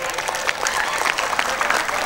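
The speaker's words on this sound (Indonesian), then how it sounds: "Tepuk tangan buat panitia." An audience at an evening Maulid Nabi community celebration applauds the organizing committee, brisk crowd clapping heard close and steady for a couple of seconds.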